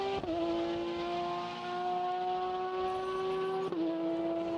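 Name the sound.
race car engine during qualifying at Sebring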